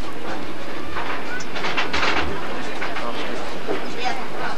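A tour train runs along rails past animal enclosures, with a steady rattling clatter of wheels on rails and a loud burst of wind and noise in the middle.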